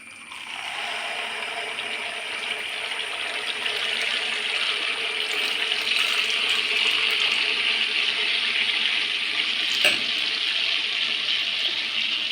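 Neyyappam batter fries in hot ghee with a steady, loud, broad sizzling hiss that rises just after the start and holds evenly throughout, with no talking.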